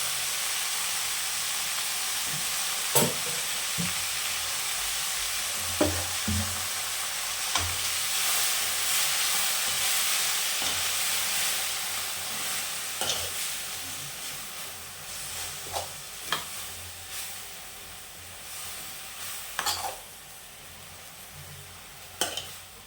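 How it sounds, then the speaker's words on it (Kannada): Fenugreek leaves frying in oil for a palya, a continuous hissing sizzle with occasional sharp stirring clicks from a utensil, close and steady throughout. "ಎಣ್ಣೆಯಲ್ಲಿ ಸ್ವಲ್ಪ ಫ್ರೈ ಮಾಡ್ಕೋಬೇಕು"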